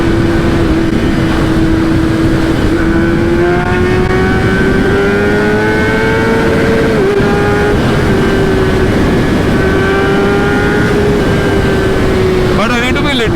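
A Kawasaki ZX-10RR litre-class sport bike engine pulls hard under acceleration while riding, its steady high whine rising and shifting through gears with loud, constant wind rush, and a rider talks over it.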